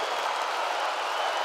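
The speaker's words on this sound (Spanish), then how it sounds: "El aplauso de la quinta para Luis Slimming" An audience at the Viña del Mar song festival applauds, a dense, even wash of clapping filling the short stretch with no one speaking.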